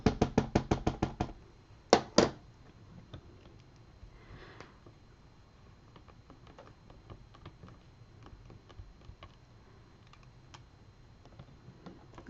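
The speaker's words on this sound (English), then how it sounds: "and then I'll re-ink it." Rubber stamp tapped repeatedly onto an ink pad for papercraft, a quick series of sharp, close taps followed by a few heavier knocks, then quiet handling noises and faint clicks.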